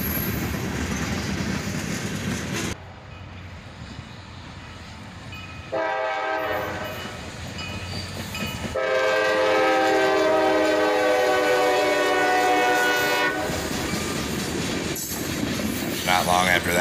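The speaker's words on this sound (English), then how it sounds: "we caught this northbound led by double SD40-3 rebuild" Northbound freight train led by two SD40-3 rebuild locomotives passing on a wet January day, a loud close rumble of the train with long, strong horn blasts sounding through the middle section.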